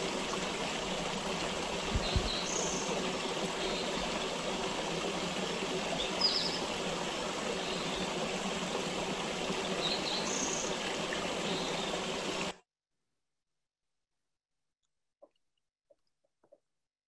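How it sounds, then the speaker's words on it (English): Running creek water in the Patagonia Mountains of Southeast Arizona, a steady soft rushing flow with faint birdsong above it, cutting off abruptly to near silence. "the beautiful and rather rare sound of running water in Southeast Arizona"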